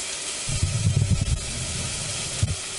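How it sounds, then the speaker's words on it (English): Onions and celery sauté in olive oil in a soup pot, giving a steady soft hiss and sizzle throughout, with a few brief low knocks and stirs rising above it, no voices. "I'm continuing to saute my onions and celery in the pot with the olive oil"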